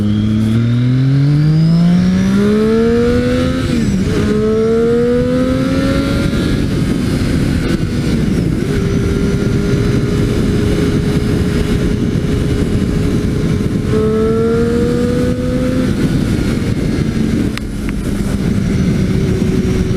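A Triumph Street Triple 675 motorcycle accelerates hard through several gears, its engine pitch rising in long sweeps then dropping at each shift, loud and close with steady wind rush.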